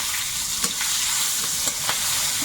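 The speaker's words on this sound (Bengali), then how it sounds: "আমি তেলের মধ্যে একটু পাঁচ ফোড়ন শুকনো লঙ্কা দিয়েছি এবার পেঁয়াজ কুচিটা দেবো" Chopped onion hitting hot oil seasoned with panch phoron five-spice and dried red chilli, giving a steady, close broadband sizzle with a few soft scraping stirs, no voices.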